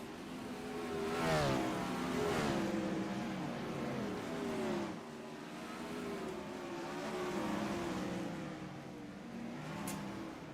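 Race cars lap a dirt track at I-55, engines rising and fading as they pass at a distance, with several rev surges across the stretch and no talk.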